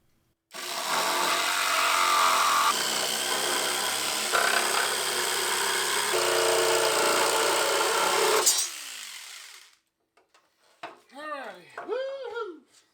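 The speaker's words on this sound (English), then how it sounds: "trim off the front of my skid plate, bolt it back on" A power tool grinds steadily and loudly for about eight seconds while trimming a metal skid plate on a 5th gen Toyota 4Runner, its pitch shifting as it cuts. Then it winds down and a voice speaks briefly.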